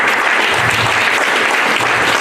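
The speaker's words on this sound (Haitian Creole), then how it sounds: "Applaudissez encore, applaudissez." A church congregation applauding, dense continuous clapping from a crowd, loud and sustained throughout, with no clear speech over it.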